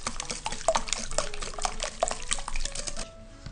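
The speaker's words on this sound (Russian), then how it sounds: "И хорошо взбиваем венчиком до однородного состояния." A whisk beating eggs with salt, sugar and vanilla sugar in a bowl for a cottage cheese bake, with rapid close clinking and wet splashing against the bowl, ending in a brief lull.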